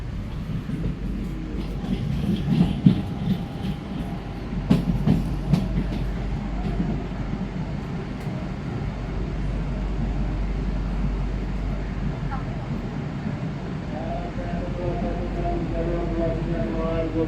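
Two KRL commuter electric trains, an Inka unit and a CRRC unit, pass each other near Universitas Indonesia station, giving a steady loud rumble with wheel clatter and clicks, and a rising tone near the end.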